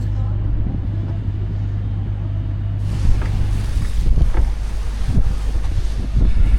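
The Coastal Express ship sailing into Hammerfest in cold wind, a steady low engine and water rumble with buffeting wind noise that grows rougher and gustier partway through.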